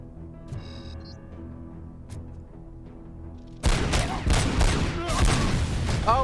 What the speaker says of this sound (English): I blew up his grenade for him.